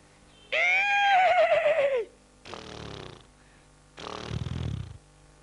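A voice imitates a horse, giving a loud, wavering whinny followed by two rough, breathy snorts, close-up and with no talk.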